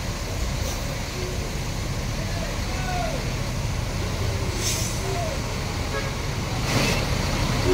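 New Sentra JB2 intercity bus pulling into Terminal Kampung Rambutan, a low engine rumble with brief hisses and a faint toot among busy terminal noise.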